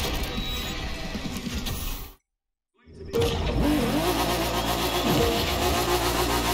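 A Nissan Skyline GT-R R34 engine drones in The Crew 2 racing game, a loud sustained mid-pitched engine hum that cuts out to silence for about a second, then returns even louder and revving, with no talking.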